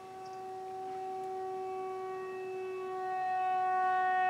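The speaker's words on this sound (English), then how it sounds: "That was a tornado siren." A tornado siren sounds during a monthly test, a steady stacked wailing tone that holds level and grows slightly louder before cutting off abruptly, heard alone with no talk.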